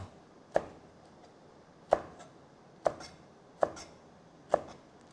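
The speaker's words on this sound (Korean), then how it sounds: "자, 이제 좀 두껍게 어슷썰기를 해주겠습니다." Five separate sharp knife chops through green onion on a cutting board, cut thick on the diagonal, spaced about a second apart and clean against a quiet kitchen.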